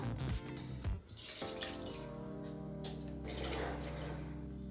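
Rice is poured into a pot of water for Tamil village-style kootanchoru, giving a soft, splashy rush of grains and water, up close and fairly quiet.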